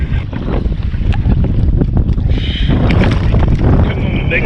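Strong gusting wind roars across open water around a kayak out jug fishing for catfish, buffeting the microphone with heavy, continuous rushing noise and splashing from waves, loud and close throughout.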